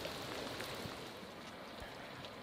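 Steady rain falls at a coastal campground near the beach in the evening, a dense, even hiss of drops with a few louder close patters and no voices.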